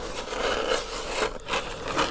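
A hole being drilled through lake ice for ice fishing, a continuous rough grinding rasp that swells and dips in rhythm, fairly close and alone without talk.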